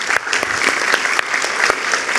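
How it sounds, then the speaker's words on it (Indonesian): An audience at a panel discussion applauds with dense, continuous clapping that sounds full and close, with a few sharper individual claps standing out. "kita berikan tepuk tangan dulu"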